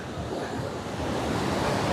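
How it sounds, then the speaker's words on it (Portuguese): Ocean waves crashing on the Arpoador coast in Rio during a cyclone, a continuous loud roar of surf mixed with strong wind buffeting the microphone. "As ondas aqui"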